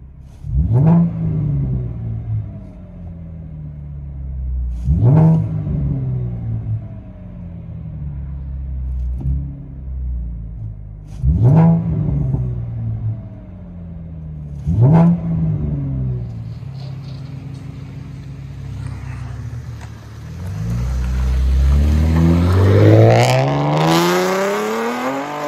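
Inside a 2014 Chevy Camaro with a 3.6L V6 and dual straight-pipe exhaust, the engine revs loudly four times in rising, roaring bursts that settle back to a rumbling idle, then builds into a long climbing acceleration.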